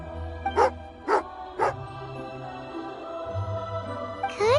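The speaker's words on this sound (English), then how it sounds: "Good doggy, good doggy." A dog barks three times in an even rhythm in the video game Genshin Impact, sharp and close, over a steady game soundtrack, followed by a rising whine at the end.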